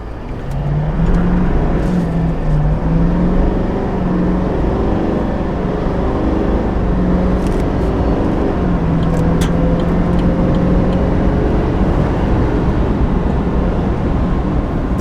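A 2022 Chevy Silverado 2500 HD pickup accelerates hard, heard from inside as a loud, steady engine roar with rising and shifting tones over about fifteen seconds.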